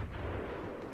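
Tank cannon fire in the Battlefield 3 video game, a heavy, booming blast with a low rolling rumble that fills the whole second, fairly faint overall.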